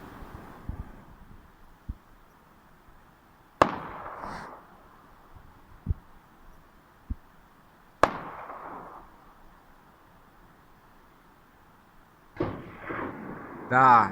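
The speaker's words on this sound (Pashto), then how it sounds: "دا د غوږین ټوپک ډز دی" Two sharp, loud gunshots from a rifle ring out about four seconds apart, each trailing off in a short echo. Quiet voices and rustling fill the gaps, and louder talk starts near the end.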